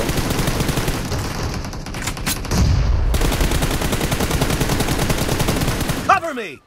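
Rapid bursts of gunfire in PUBG Mobile rattle continuously, dense and loud, with a brief sharper burst midway and a tonal chime near the end.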